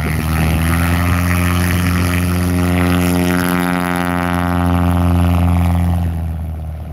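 Racing lawnmower running a 0300 engine with a little nitrous, a loud steady engine roar with strong harmonic bands that hold and then shift in pitch throughout, close and continuous with no talk.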